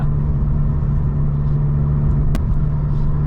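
Fiat 500 Abarth EsseEsse with a Stage 1 tune idling, a steady deep engine rumble with a strong low hum, close and continuous with no talk.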